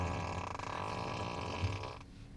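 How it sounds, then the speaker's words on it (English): An on-demand fart sound effect from a Tesla Model 3 sounds as one continuous, loud, low raspy flatulent blast lasting about two seconds before cutting off. "Ooh, fart on demand."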